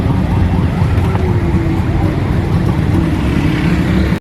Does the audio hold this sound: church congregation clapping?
no